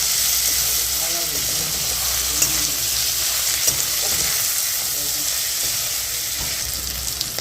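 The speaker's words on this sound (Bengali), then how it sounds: "দেখুন ভাজা হচ্ছে মাংসটা আর পেঁয়াজটা" Chicken pieces and onion fry in a pan with green chili, giving a steady, close sizzle and crackle throughout with occasional stirring.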